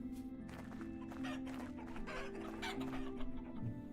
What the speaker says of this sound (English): we shouldn't bother feeding the chickens